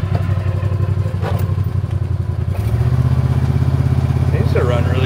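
A custom golf cart's engine runs steadily close by, a loud low throbbing drone that grows slightly heavier partway through, with some faint clatter on top.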